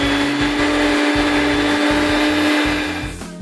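Electric mixer whirring steadily through cake batter, a loud, close, continuous motor drone with a slight rhythmic pulsing that winds down near the end, with no talking over it.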